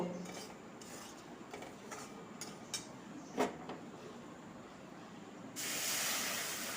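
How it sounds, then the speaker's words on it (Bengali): Milk goes into hot fried semolina in a pan, giving a soft hissing, rasping sizzle with a few scrapes and light clinks, then a steadier louder hiss near the end, close and without talk. "এবার এর মধ্যে দুধটা দিয়ে দেব"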